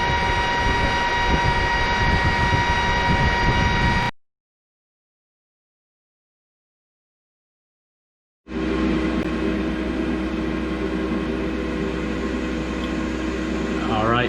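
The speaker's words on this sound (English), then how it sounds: "what the Glowforge sounds like without the inline fan." Glowforge laser cutter running without an inline exhaust fan, a loud steady hum with whining tones that cuts to silence partway through and then resumes at the same level.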